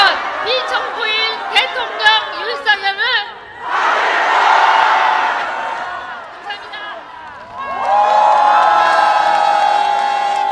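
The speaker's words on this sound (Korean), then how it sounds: "다음 주 울려 퍼질 주문을 같이 한번 외쳐보겠습니다" A large crowd at a political rally in Korea chants slogans together, loud rhythmic bursts of shouting followed by sustained collective roars and cheers, close and filling the space.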